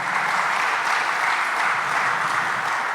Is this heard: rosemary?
no